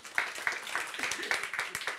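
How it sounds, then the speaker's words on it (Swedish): Sparse applause from a small audience at the close of a Swedish talk on innovation support, with separate claps landing roughly every quarter second. It is fairly close and modest in loudness, with little else around it. "Och en applåd."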